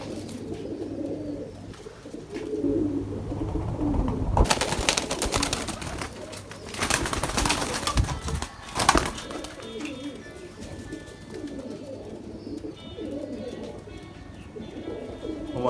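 Pigeons of a prized breed coo repeatedly in a loft, soft rolling calls recurring throughout, with a burst of wing flapping and rustling in the middle and faint voices in the background.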